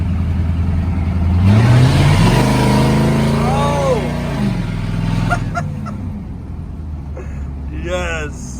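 A car engine revs hard and pulls up through the gears, a loud rising roar that peaks, eases off and fades, heard from inside the vehicle alongside excited shouting.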